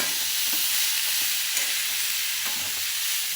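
Dry chickpeas coated in masala are stirred in a hot pan. A loud, continuous sizzle of frying fills the clip, with a few soft scrapes from the spoon and no voices.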